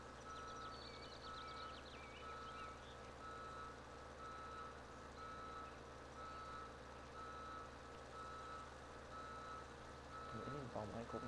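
Reversing beeps from a farm vehicle in Landwirtschafts-Simulator 17 on PS4, a steady evenly spaced series of high tones repeating over continuous engine hum, with a brief engine swell near the end.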